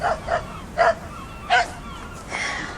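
A dog barks several times outdoors, the barks short and spaced apart over a steady rush of wind.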